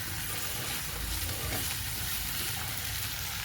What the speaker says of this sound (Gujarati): હવે તેમાં આપણે ડુંગળી સાંતળીએ છીએ